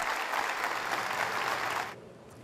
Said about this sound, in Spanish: cambió el minuto del silencio por un cerrado aplauso en su memoria